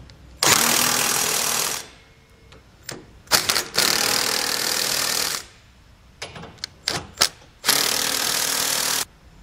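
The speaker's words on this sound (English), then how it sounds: "With the hitch now supporting itself, we can go ahead and tighten down all the bolts." A power tool tightens the bolts of a Curt trailer hitch on a 2019 Ford Ranger in several loud rattling bursts, separated by short pauses and softer clanks.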